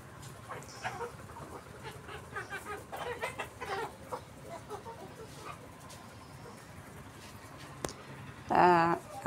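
Hens in a rain-dampened chicken coop cluck in scattered bursts, with a louder squawk near the end against a steady background.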